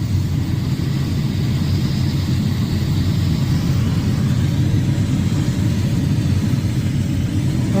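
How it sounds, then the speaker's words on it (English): Combine harvester unloading corn into a grain cart on the go during a harvest: a steady, loud engine drone with a continuous low rumble and broadband machine noise, unbroken throughout and with no talk. "Time to offload some corn into the cart."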